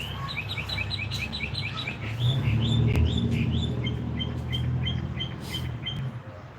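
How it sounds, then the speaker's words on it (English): Songbirds chirp in quick repeated high tweets across the whole stretch, with a low rumble of background noise underneath. "Sounds like we actually got some songbirds this spring."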